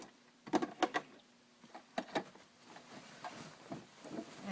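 A sewing machine stitches fabric for a kimono nightgown, running in a few short, quiet mechanical bursts of rapid clicking, with soft handling noises between them.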